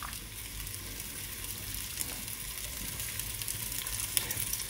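Meat browning in a very hot pot with no oil, a steady close sizzle filling the whole stretch with small crackles and pops, no voices.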